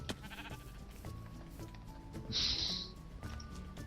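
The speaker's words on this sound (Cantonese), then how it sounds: "隻羊要生多一次羊毛" A sheep in the video game Minecraft bleats once in a short, bright call, heard over quiet game sounds with faint clicks and tones around it.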